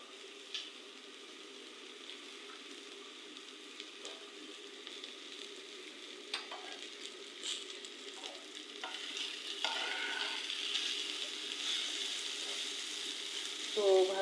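Vegetable bhaji being stir-fried in a pan: a soft continuous sizzle with scattered clicks and scrapes of a spatula, growing somewhat louder toward the end, close but fairly quiet.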